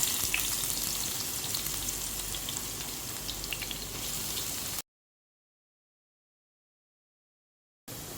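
Crushed spices frying in a pan for a potato dish, a steady, dense sizzle heard up close, which cuts off abruptly into silence and then briefly resumes.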